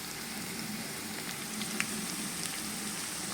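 Green chillies fry in a pan of oil for chicken dum biryani, giving a steady, soft sizzle and crackle close by, with a few sharper pops and no talking.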